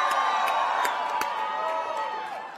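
A large crowd at the March for Israel rally in Washington DC cheers and whoops in a dense, sustained roar with sharp claps and shouts poking through, fading slightly toward the end.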